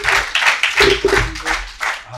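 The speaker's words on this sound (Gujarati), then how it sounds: "ખૂબ તાળી અને ખૂબ સન્માન સાથે આપણે એમનું સ્વાગત કરીશું" An audience at a poetry event claps to welcome poet Anil Joshi to the stage, producing loud, uneven bursts of nearby clapping that swell and dip over a couple of seconds.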